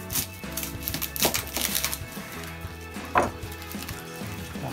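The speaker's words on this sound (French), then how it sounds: "Notre tête d'ail, simplement coupé en deux." A kitchen knife slices a whole head of garlic in half on a cutting board while duck legs are prepared for confit, giving a couple of sharp, close chopping knocks over a steady low background hum.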